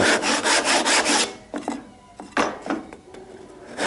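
A hand saw cuts across wood grain for a housing joint, starting with about six quick rasping back-and-forth strokes, then slower, lighter intermittent strokes close by.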